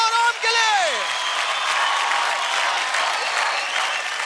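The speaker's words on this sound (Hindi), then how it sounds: "जोरदार ताली हो जाए रिमशा और ओम के लिए" A studio audience on a Hindi kids' dance show bursts into loud, sustained applause for young dancers Rimsha and Om, cheering rising as a descending musical tone fades at the start.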